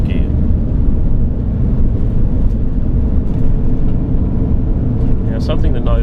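Mitsubishi Pajero NT engine cruising in 5th gear on cruise control, a steady low rumble of engine and road noise heard from inside, with brief faint sounds near the end.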